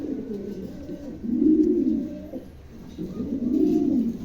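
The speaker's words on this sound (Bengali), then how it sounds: "চমৎকার একজোড়া নতুন নিউ অ্যাডাল 9 খিল 10 খিলের কবুতর" A pair of young adult pigeons coo nearby in low, throaty rolling phrases, two swells rising over a quiet background.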